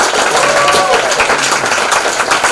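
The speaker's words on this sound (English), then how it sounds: "I also would like everyone to give a round of applause to our candidates for coming over" An audience claps for political candidates at a congressional district candidate forum, a dense burst of applause with voices mixed in, lasting only a couple of seconds.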